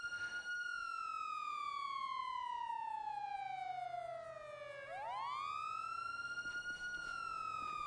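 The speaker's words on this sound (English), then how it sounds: "I turned the siren off, but it's still going, so that's just kind of bugged" A police siren in the game GTA FiveM stays stuck on, its steady wail sweeping slowly downward and then rising again. It sounds loud and continuous, with no talking over it.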